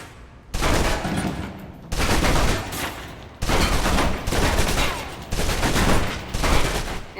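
Submachine gun in the video game Alpha Protocol emptying a full magazine in four or five sustained loud automatic bursts separated by short gaps, with no talk.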